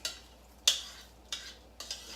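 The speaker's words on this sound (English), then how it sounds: "And then I'm going to stir this up." A spoon scrapes and knocks through a pot of rice, gandules and seasoning, giving a few sharp, separate clinks and scrapes over a quiet background.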